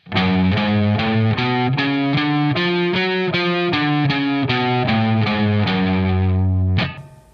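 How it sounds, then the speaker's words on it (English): An electric guitar with distortion and chorus runs through the G harmonic minor scale from octave to octave, a steady sequence of separate picked notes ending on a held tone. "So the G harmonic minor played octave to octave sounds like this."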